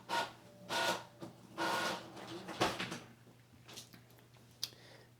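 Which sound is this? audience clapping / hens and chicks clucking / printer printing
printer printing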